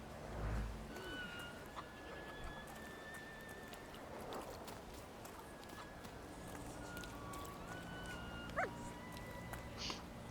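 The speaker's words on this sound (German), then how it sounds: "da war irgendwo ein Hund" A dog in the video game The Thaumaturge, heard faintly among layered game ambience with distant animal calls, soft music tones and occasional sharp effects; no one speaks.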